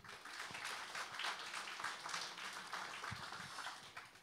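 Faint applause from an audience at an oriental dance show, steady clapping heard at low level throughout, distant and without any talking.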